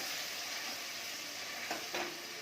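Onion paste fries in a pan with a loud, dense, continuous sizzle close by, and a ladle scrapes and stirs it a couple of times near the end.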